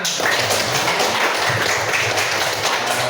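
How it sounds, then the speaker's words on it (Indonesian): A group claps together at a classroom teaching session, a dense, even burst of applause heard close and continuing throughout the few seconds. "Tepuk tangan untuk kita semua."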